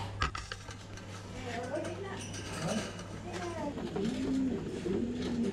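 Thai Titan meat pigeons coo on a pigeon farm, a chorus of soft, low, wavering calls rising and falling continuously at close range, mixed with light metallic clinks from cages.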